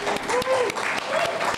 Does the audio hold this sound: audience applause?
yes